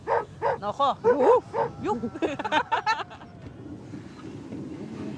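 A dog at a Mongolian nomad camp barks and yips in quick close bursts for about three seconds, then quiet outdoor background remains.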